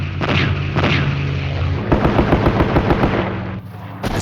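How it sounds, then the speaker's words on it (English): Aircraft strafing and bombing runs on a jungle base, with dense, loud rapid machine-gun bursts over heavy low booms and rumbling explosions. The firing runs continuously, briefly stutters in rhythmic pulses, then gives way to a deep blast near the end. "The aircraft made 3 heavy bombing and strafing runs."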